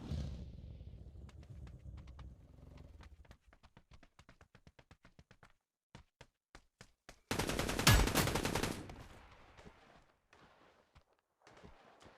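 Rapid Mk 47 Mutant rifle shots in the game New State Mobile crack in quick bursts, then single spaced shots, followed by a long loud sustained blast of fire, with no talking.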